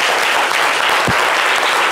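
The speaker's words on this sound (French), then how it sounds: "on souhaiterait humblement te rendre hommage à travers 5 secondes d'applaudissements" Standing audience applause on a live French talk show, a tribute to a guest's mother. Loud, continuous clapping runs throughout without talk.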